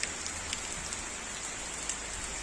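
Continuous rainfall hisses evenly on surfaces, dense and unbroken with faint drop ticks, and no voices over it.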